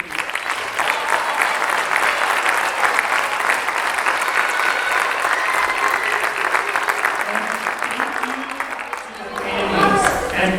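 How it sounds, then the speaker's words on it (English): Audience applause fills a school concert hall at a grade 4 concert, steady and sustained for several seconds before tapering as voices and cheers rise near the end. "Again, one more round of applause for them."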